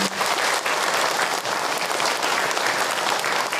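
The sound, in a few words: audience applause at a sermon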